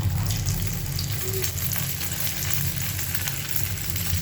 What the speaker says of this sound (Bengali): এখন আমি ডিম ভাজা করছি, শুকনা মরিচ, কাঁচা মরিচ সব কিছু দিয়ে অনেক টেস্টি করে একটা ডিম ভাজবো।